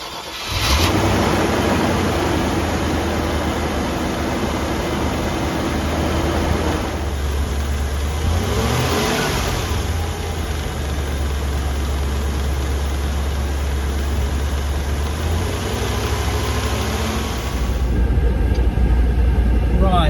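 A Range Rover Classic engine runs steadily for a long stretch after a radiator recore, with a low continuous drone and a brief rise in revs partway through. A heater fan blows at full blast, and a person talks over it at times.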